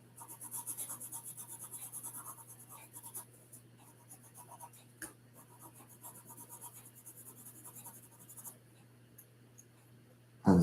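A pencil sketching a sprint car on paper, soft close scratching and rubbing strokes in quick rhythmic bursts that thin out to sparse light touches, quiet and intimate, ending with a brief louder bump.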